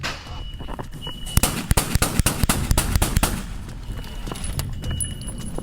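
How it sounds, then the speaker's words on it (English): A fully automatic Glock handgun fires a rapid burst of sharp cracks on a police bodycam, about a dozen shots in quick succession, fairly loud over a muffled background. "Dion unleashed a barrage of gunfire with a fully automatic Glock handgun"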